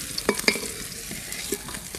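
Pieces of rohu fish fry in a pan of oil, a soft continuous sizzle with a few brief sharp pops and stirring clinks, close and fairly quiet, with no talk.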